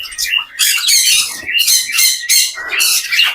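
Newly added finches in a home aviary squawk loudly in quick, bright bursts, several birds calling over one another close by with only brief pauses.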